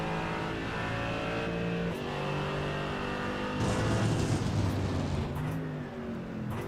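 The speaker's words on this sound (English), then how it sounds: "the gorgeous sounding Mercedes with its roaring V8 rumbling its way down the hills" A Mercedes V8 GT4 race car roars in a sim racing game at the Red Bull Ring, a loud, steady engine drone climbing and dropping with gear changes and a harsher surge midway, heard alone without commentary.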